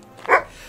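Lasse's dog Biver gives a single short bark on a quiet country road, close and fairly loud, heard alone.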